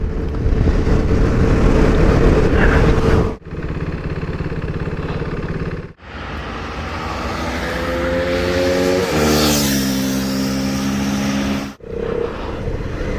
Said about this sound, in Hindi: अभी जस्ट आशीष भाई का एक ऑसम फ्लाई बाय मैंने रिकॉर्ड किया है